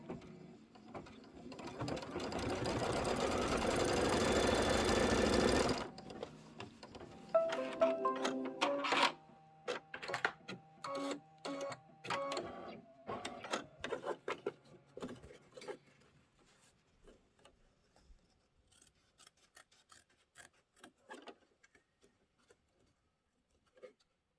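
Kimberbell embroidery machine stitching a placement line on a Candy Corn quilt block: a loud steady whir first, then a long series of irregular rapid clicking and tapping stitch sounds that thin out and fade.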